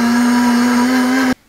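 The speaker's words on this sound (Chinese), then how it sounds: "把菠菜呢倒进破壁机，加入250毫升的清水，" A high-speed blender juicing blanched spinach with 250 ml of water, running as a loud, steady high-pitched whine that cuts off abruptly near the end.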